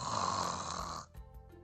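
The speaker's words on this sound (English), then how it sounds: "Snoring." A sleeping man snores, one long raspy inhale that cuts off into quiet, followed by faint soft tones, close and alone.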